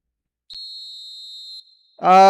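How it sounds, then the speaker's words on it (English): A referee's whistle sounds in an eFootball video game match: a single sustained high-pitched blast held for about a second, then a loud crowd roar swells in behind it. "There's the whistle, and here we go."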